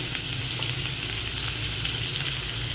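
Chicken masala with turmeric fries in hot oil in a kadai, giving a close, steady and even sizzle throughout, with no voices.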